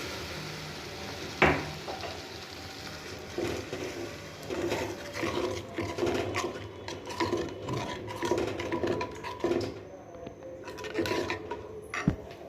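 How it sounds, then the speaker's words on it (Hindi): Water poured into a pan of sizzling achari eggplant curry, a sharp splash followed by bursts of crackling sizzle and scraping stirs, moderately quiet and close. "पानी डाल देंगे।"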